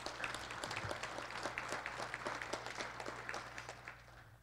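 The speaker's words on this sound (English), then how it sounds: "So let's give them a round of applause." Audience applause in a college auditorium during a State of the College address, a steady wash of many hands clapping at moderate distance, sustained throughout and tapering slightly at the end.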